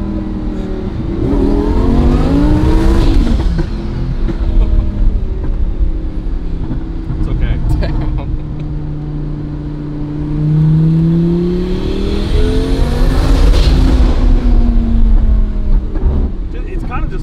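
A rebuilt Lamborghini Murcielago engine revs up and down repeatedly, loud and near, its rising and falling roar filling the clip while someone speaks briefly over it.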